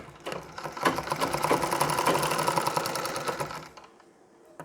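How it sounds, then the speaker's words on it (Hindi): A sewing machine with a long stitch length runs in one steady, rapid burst of about four seconds, stitching the waist section of a Nauvari saree, then stops. "ये भी हमें जोड़ लेना है सिलाई लगाकर"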